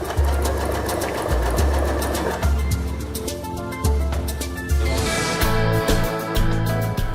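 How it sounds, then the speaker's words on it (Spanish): A Skyline S5 sewing machine sews a four-hole button with a loud, steady mechanical whir and rapid needle ticking, pausing briefly every second or so as it shifts position, close up and with no voices. "como este es un botón de 4 orificios, movemos un poco hacia adelante para concluir el trabajo, cosiendo los otros 2 orificios faltantes"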